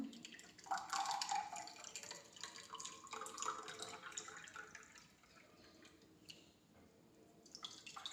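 ABC juice made from apple, carrot and beetroot is poured into a container, a close liquid stream that gurgles strongly at first, then thins and tapers off into faint trickles and drips.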